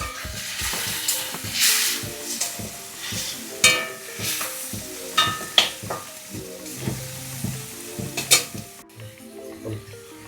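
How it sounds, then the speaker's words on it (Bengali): Prawns fry in a pan with ginger paste, a loud sizzle broken by repeated scraping stirs, with faint music behind. "চিংড়ি মাছ ভাজা হলো"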